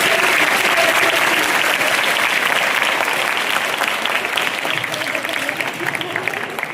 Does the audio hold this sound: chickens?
no